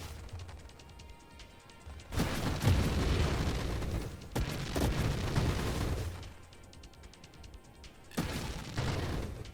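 Loud booming explosions in the space shooter game Nova Drift during a Maelstrom Swarm battle, bursting in heavy waves of rumble and crackle that rise and fall, separated by quieter stretches of dense rapid firing.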